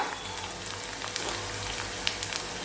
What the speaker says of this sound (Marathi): आता कांदा गुलाबी रंगावरती व्यवस्थित परतून झालेला आहे